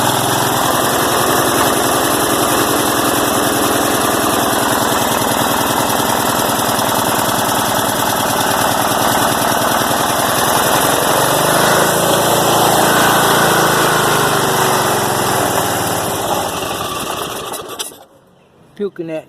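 Old tractor engine running steadily after being started with carburetor cleaner, a loud continuous rattling chug with rapid mechanical ticking that holds for about seventeen seconds, then cuts out abruptly.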